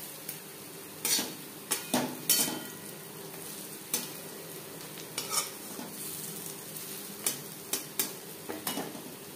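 Fritters sizzle steadily in hot oil while a utensil scrapes and taps the pan in sharp, irregular knocks as pieces are turned over, close and fairly quiet.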